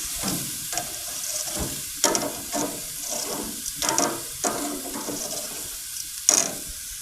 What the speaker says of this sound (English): And toss our veggies again.